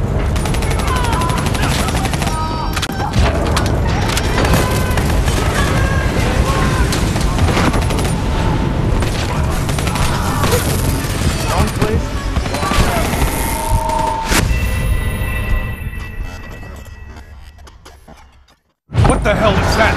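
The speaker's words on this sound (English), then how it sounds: "Hendricks, we have multiple explosions across the facility." Call of Duty Black Ops 3 combat inside a facility: dense, rapid gunfire and bursts of blasts crackle continuously over game dialogue, then fade before a brief silence and an abrupt return.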